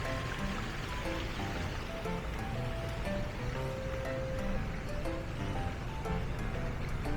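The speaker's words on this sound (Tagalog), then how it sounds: "That's a running water." Water rushes and burbles steadily in Legazpi Park, Makati, a continuous broadband wash like a nearby stream, with faint bird chirps scattered through it.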